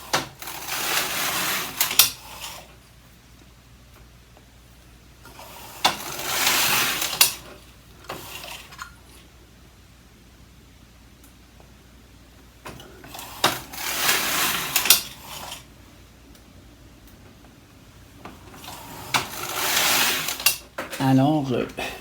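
Carriage of a Superba knitting machine (Singer, Phildar) sweeping back and forth across the needle bed to knit rows in a woven tuck stitch: four rattling, clattering passes of about two seconds each, separated by quiet pauses.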